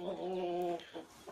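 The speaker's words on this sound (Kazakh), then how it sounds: "Әтештер өз жұмысын жасап жатыр." Roosters and hens in a small coop: one drawn-out, tonal call from a nearby bird, followed by two short clucks.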